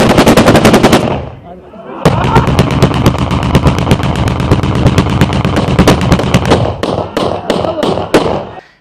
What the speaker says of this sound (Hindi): एक और अंदाज़े जश्न खुशी के मौके पर हवाई फायरिंग।